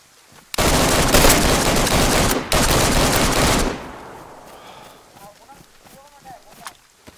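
Rapid sustained gunfire in the video game DayZ on PS5, a loud dense burst lasting about three seconds with a short break, then fading to quieter background sounds.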